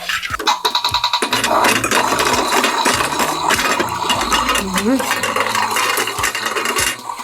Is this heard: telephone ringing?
no